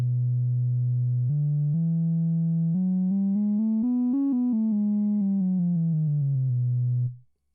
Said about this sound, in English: has a much more pure tone, sounds much more smooth